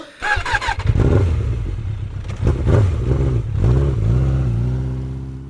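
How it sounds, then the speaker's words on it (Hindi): An old rural motorcycle, called a phatphatiya, sputters loudly up close, with revving bursts that settle into a rough, steady engine drone. "वैसे भाई तुम्हारी फटफटिया तो बड़ी आवाज करती है"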